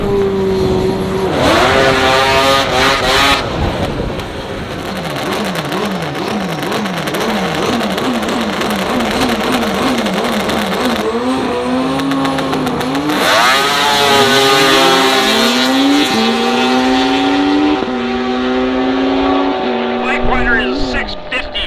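A Ski-Doo snowmobile and a Suzuki Hayabusa motorcycle drag race on an asphalt eighth-mile strip, their engines wailing loud and close through repeated rising shifts before fading. A public-address announcer talks over the noise.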